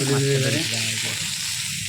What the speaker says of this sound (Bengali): মাছের মুড়োটা প্রায় ভাজা হয়ে গেছে